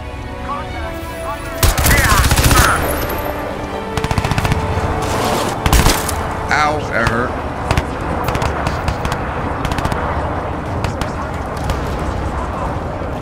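Gunfire in the video game Crysis 2 Remastered, bursts of rapid automatic shots and single cracks over game noise, with a voice talking now and then.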